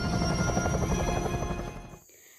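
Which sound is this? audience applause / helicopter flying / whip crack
helicopter flying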